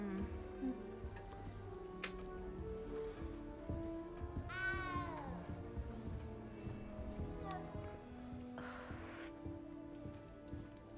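A cat meows a few times in Hogwarts Legacy, set inside the castle, with drawn-out rising and falling calls over a steady background of rain and soft ambient music.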